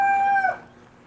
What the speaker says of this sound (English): Stinking little chicken.